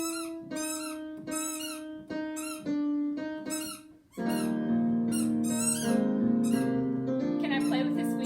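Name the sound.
dog's squeaky toy squeaking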